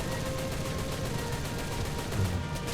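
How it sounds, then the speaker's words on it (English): Sustained aircraft machine-gun fire in the War Thunder combat game, a dense, continuous rattling burst heard up close and loud throughout, with no talking over it. "fire a few shots at it out of spite"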